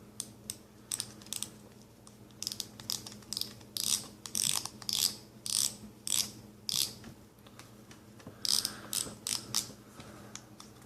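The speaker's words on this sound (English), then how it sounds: "then you just have to put your reel back together" Lew's Carbonfire baitcasting fishing reel being put back together after a bearing install, a quiet run of small clicks, ratcheting and tapping bursts in an irregular rhythm, heard close and alone.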